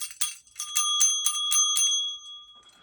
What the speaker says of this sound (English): do you like my little bell?